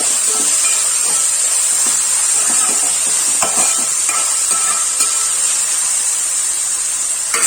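Green chillies drop into a hot pan for spicy mushroom noodle soup, setting off a steady, loud sizzle and hiss with light stirring scrapes throughout.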